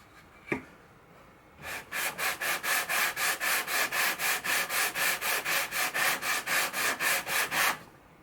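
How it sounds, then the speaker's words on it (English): Sandpaper rubs back and forth across the fretboard of an archtop guitar, a quick dry 220-grit rasp repeated in a steady rhythm of about twenty close strokes after a single tap. "I'll probably use this to sand the fretboard too."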